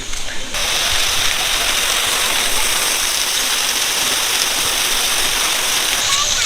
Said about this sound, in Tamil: மழை வருதான்.